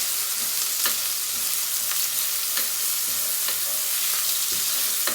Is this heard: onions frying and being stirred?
yes